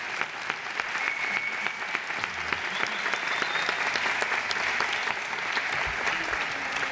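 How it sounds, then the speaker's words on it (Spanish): Sustained applause from a crowd for the musicians at an outdoor traditional dress and folk festival in Tiedra, Zamora, steady clapping throughout with no talking. "Un aplauso para ellos."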